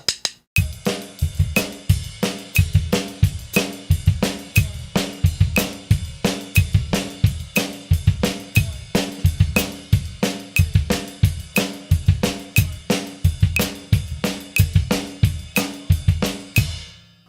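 A drum kit plays a steady, driving groove of crisp snare and cymbal hits over kick drum in a pattern over sixteenth-note triplets, repeating evenly for about seventeen seconds without any talking.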